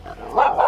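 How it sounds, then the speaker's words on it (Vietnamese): A loose, unchained dog barks at a hillside farmhouse in rural Vietnam, giving a short, close burst of sharp barking with no talk over it. "Con chó này nó không buộc."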